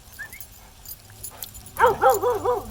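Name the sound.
beagle barking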